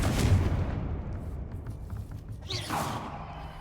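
A Confringo fire spell in Hogwarts Legacy goes off with a loud opening blast, then a rumbling tail and a sharp whoosh a few moments later.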